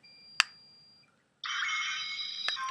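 A Power Rangers toy morpher gives a sharp click and tone, pauses, then plays a bright buzzing, shimmering synthetic effect that continues steadily.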